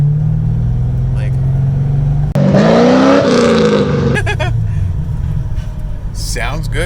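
An LS3 V8 swapped into a Subaru BRZ runs on dyno rollers, idling with a deep burbling note, then revving hard for a couple of seconds before dropping back to a loud rumbling idle with faint chatter.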